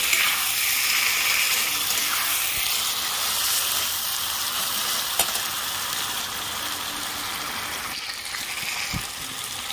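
Chicken pieces frying in a pan for biryani, a steady loud sizzle with occasional stirring scrapes and clinks throughout.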